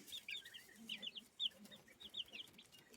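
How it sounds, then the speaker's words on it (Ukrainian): Small goslings peep and cluck softly in short bursts of high chirps, several at a time, quiet and close with faint rustling between. "курчатка вже оклигали, вже бігають, вже бігають."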